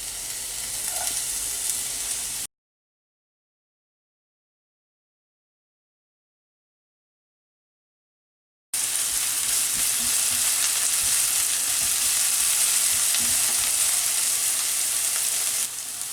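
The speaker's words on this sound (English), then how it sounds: "And then I'm gonna add onion and garlic together." Onion and garlic frying in olive oil in a pan, a steady dense sizzle that runs about two seconds, cuts to silence, then returns loud and continuous for the final stretch.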